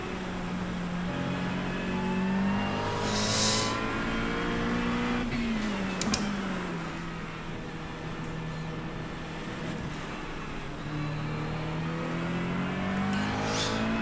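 A race car engine in a racing sim driving in wet conditions, a steady moderate engine hum rising and falling slowly as the car accelerates and eases off, fairly quiet and continuous, with a few faint clicks and no talk.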